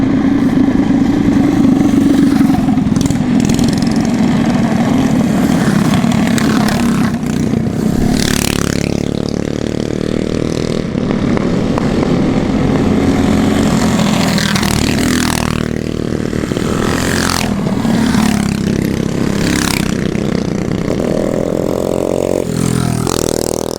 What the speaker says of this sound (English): There's a bunch of little mini bikes coming.